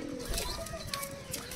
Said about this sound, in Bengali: তো এখানে প্রচুর পায়রা আছে দাদার।